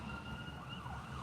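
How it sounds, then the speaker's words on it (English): A distant ambulance siren wails steadily over a constant background rumble of traffic, with no talking. "That's an ambulance."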